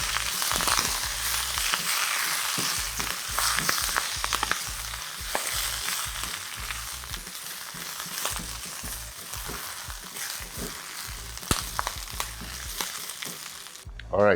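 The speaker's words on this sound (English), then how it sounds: "now I'm just gonna do a quick stir fry on the pak choy leaves" Pak choy leaves stir-fried quickly in a hot pan for noodle soup, a steady close sizzle broken by frequent clattering stirs and tosses, with no talking.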